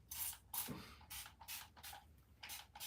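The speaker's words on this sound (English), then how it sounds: "I get one spray per round." A hand spray bottle spritzing hair, about six quick hissing pumps in an irregular rhythm, close and fairly soft, with no talking.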